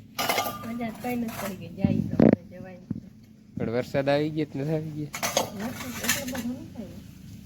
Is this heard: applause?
no